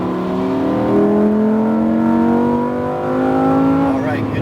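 A Lamborghini Huracan accelerates on a race track, its engine note climbing steadily in pitch over several seconds, loud and close from the cabin, with a voice briefly heard.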